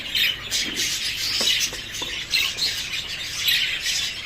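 Small birds in a breeding setup with full nests and newly hatched chicks, giving continuous high chirping and squawking calls close by, with a few brief sharper peeps, no talking.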